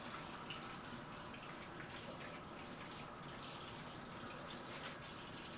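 Hot water from a kitchen tap gushes steadily over frozen-solid meat still wrapped in tinfoil. The stream is constant and moderately faint, with no voices.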